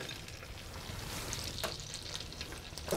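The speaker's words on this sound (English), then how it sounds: "there's my chopped onion going in" Chopped onion frying in a pan for a pork ragu, a quiet, even sizzle with light crackles and a low background hum, heard briefly without voices.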